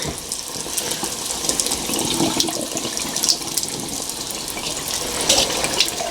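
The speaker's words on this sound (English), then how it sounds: "This drain is a lot cleaner. Hear it gurgling." A sink drain gurgles and fizzes after a baking soda and vinegar treatment, giving a continuous wet, bubbly rush with scattered pops and trickles, close and fairly loud, no voices.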